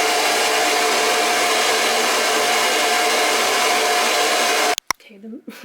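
A hair dryer blows in a loud, steady whoosh while drying hair, then cuts off abruptly near the end, leaving brief quiet rustling.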